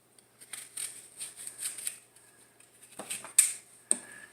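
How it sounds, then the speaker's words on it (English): A knife cuts the core from a quartered apple during apple pie preparation, producing soft, clustered crisp cuts and scraping, followed by two sharper snaps near the end, close and quiet with no talking. "cut out the core"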